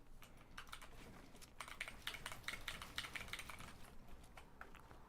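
Rapid computer keyboard typing with uneven bursts of clicking keys, close and fairly steady across the whole stretch, with no voices over it.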